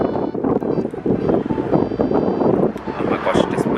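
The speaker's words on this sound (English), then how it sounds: "this wind" Gusty wind buffets a microphone outdoors on a grey, murky day in London, a steady low rumbling roar with fluctuating bursts throughout, loud and close.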